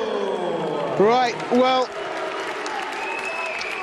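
Boxing crowd at a fight night in Manchester applauds and cheers for a fighter, a steady wash of clapping and crowd noise heard under someone talking.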